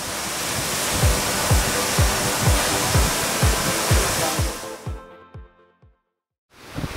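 The Kalchhe waterfall in Syangja, Nepal, gives off a loud, close, broadband rush of falling water with a rhythmic low thumping underneath. The sound cuts out abruptly for about a second and a half near the end before returning.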